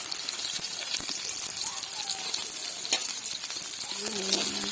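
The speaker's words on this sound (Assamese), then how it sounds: "এয়া পিঁয়াজ ফ্ৰাই কৰিছে" Onions fry in a pan with a continuous crackling sizzle, joined by occasional clinks and stirring, and faint voices in the background.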